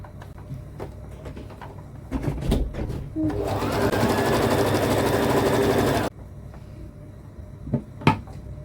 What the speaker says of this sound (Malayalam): ഈ എൻഡ് വരെ ഇങ്ങനെ നമുക്ക് അടിച്ചെടുക്കാം.